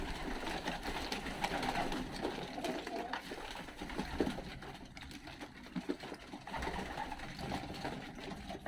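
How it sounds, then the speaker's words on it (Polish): Racing pigeons peck at pellet feed, giving a faint, steady patter of small taps over a soft background hum, with a few low coos mixed in. "jak pięknie jak pięknie gołąbki jedzą granulat"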